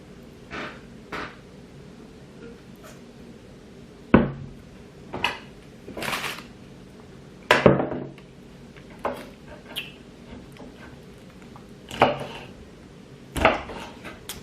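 A knife chops asparagus and spinach on a board, giving irregular sharp knocks and clicks spaced a second or two apart, with quiet kitchen clatter between and no talk.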